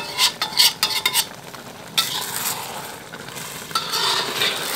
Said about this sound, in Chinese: 像锅边这些糊的地方，用铲子铲一下啊